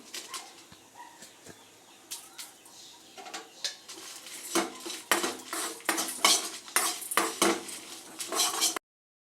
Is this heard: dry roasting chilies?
yes